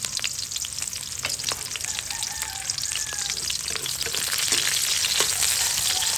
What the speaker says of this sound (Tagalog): So gisa-gisa lang.